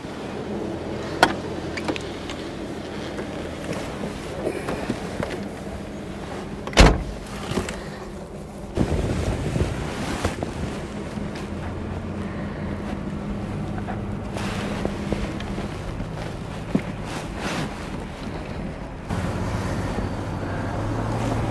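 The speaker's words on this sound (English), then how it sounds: "So what's it like to drive a 12-cylinder Jag convertible that handles like a dream, that rides even nicer?" A 1994 Jaguar XJS V12 convertible cruises with the top down, a low steady engine and road rumble mixed with wind buffeting, a sharp knock or thump midway and shifting tones as it drives.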